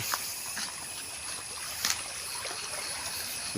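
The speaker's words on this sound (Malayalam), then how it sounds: "കുട്ടാട്ടുപാറയിലൂടെ ഒഴുകുന്ന തോടാണിത് നല്ല കുത്തൊഴുക്കാണ് വരുന്നത്" A swollen, fast-flowing stream rushes over rocks at Kuttattupara during heavy rain flooding, a steady broadband roar of water with occasional louder splashes, moderately distant.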